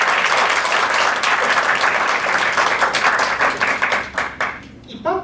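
A Toastmasters meeting audience applauds together, a dense steady wash of clapping that holds loud for about four seconds, then thins into a few scattered final claps.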